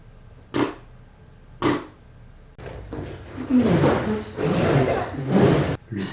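A human voice imitates a tractor failing to start: two short sputtering bursts separated by quiet, then a longer, rougher rumbling attempt that cuts out abruptly.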